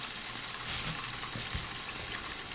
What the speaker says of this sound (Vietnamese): Sau đó khi nào ăn thì mình chiên lại lần thứ hai để gà lên màu vàng đẹp và giòn lâu hơn nha.